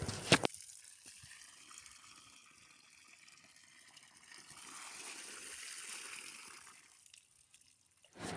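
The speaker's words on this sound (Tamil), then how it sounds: "கொஞ்ச நேரத்தில் அந்த பைப்லேருந்து தண்ணி வரும்" Water runs from an iron borewell pipe in Haryana, a faint, steady rushing flow that swells midway and then eases, with a sharp knock at the start and no talking.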